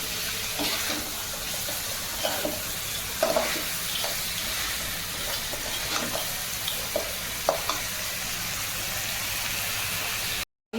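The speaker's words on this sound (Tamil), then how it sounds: "இது நல்லா வதங்கட்டும்." Crab masala sizzles and fries steadily in a pan, a continuous hiss with occasional stirring scrapes and clinks throughout, no voices.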